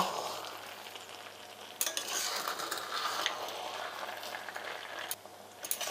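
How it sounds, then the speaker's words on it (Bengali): Saffron-soaked milk is gently stirred into a festive Nabanna Annakut dish cooking over a low flame, with continuous soft scraping and sizzling, occasional clinks of the spoon against the pan, and steady nearby movement. "হালকা হাতে আস্তে আস্তে মিক্স করব।"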